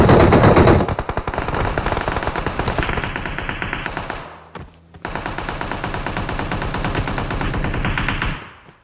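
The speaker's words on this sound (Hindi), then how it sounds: "हाँ शूट कर रहे हैं।" Rapid automatic gunfire in PUBG Mobile, loud sustained bursts of fast repeated shots, a brief pause mid-way, then another long stream of rapid fire.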